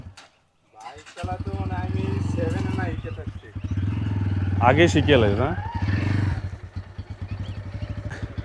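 A motorcycle engine idles and revs steadily nearby as a ride sets off from a village, with people talking over the engine throughout.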